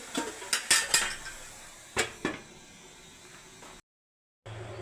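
A utensil knocks and scrapes against a pan while mashed drumstick flowers and potato are stirred: a quick run of clinks, then two more a second later, followed by quiet pan noise and a brief silence.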